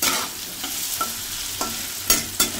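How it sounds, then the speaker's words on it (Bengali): Potatoes seasoned with turmeric and salt fry in a pan, giving a steady close sizzle broken by about five sharp scraping stirs. "আলুটাকে ভাজতে বসিয়ে দিয়েছে"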